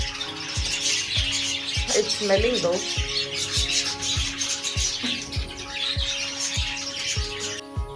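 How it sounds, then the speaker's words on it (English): Wild birds chirp and call in a busy, close chorus over a steady rhythmic mechanical hum, with a short voice speaking briefly partway through. "So many beautiful birds."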